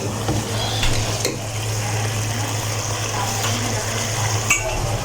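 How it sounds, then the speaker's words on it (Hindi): Fried arbi (taro root) pieces being added to a pot of soft-cooked potato curry, giving a steady close sizzle with soft scraping and a few clinks, without talk. "तो अब हम इसमें अपनी अरबी ऐड कर देते हैं"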